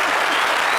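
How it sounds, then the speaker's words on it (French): Studio audience applauding on a French-language TV entertainment talk show, a steady, dense burst of clapping heard close and alone, filling the whole short moment. "Vous voulez applaudir?"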